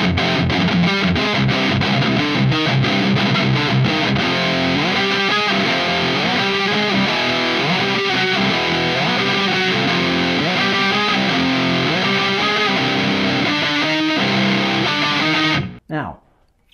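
Heavily distorted electric guitar from a PRS P22 with Fishman Fluence pickups, played through a Mesa amp with Vintage 30 speakers and reverb, chugs and rings steadily in a loud, rock-style riff before stopping abruptly near the end.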